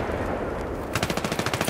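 Gunfire in Battlefield 3 sounds as a rapid, even burst of about nine crisp shots in quick rhythm, rising out of a steady wash of battlefield noise.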